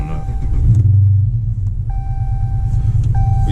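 A Dodge Charger R/T's engine turns over and settles into a loud, deep, steady rumble close by, with a few faint electronic chimes from the car sounding over it.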